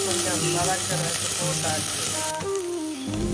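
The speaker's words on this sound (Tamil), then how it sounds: "வெந்தயம் உள்ளி வெங்காயம் மிளகாய் எல்லாம் போட்டு தான் முதல் எண்ணெயில் வதக்கணும் இப்படி" Onions, fenugreek, garlic and chili sizzle steadily in hot oil for a brinjal curry, a continuous close frying crackle with faint stirring under a soft background tone.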